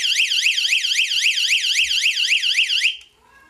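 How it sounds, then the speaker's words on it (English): A bug out bag emergency signal alarm wails with a fast, rising-and-falling electronic siren, loud and close, sounding steadily for about three seconds before cutting off abruptly. "you can also turn the alarm on"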